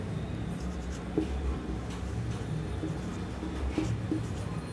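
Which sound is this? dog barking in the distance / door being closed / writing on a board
writing on a board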